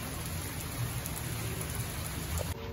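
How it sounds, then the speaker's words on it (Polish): Rain falling outside on a grey, gloomy day, a steady close hiss of drops on surfaces that carries on evenly throughout without any voices. "Zobaczcie jak ładnie pada."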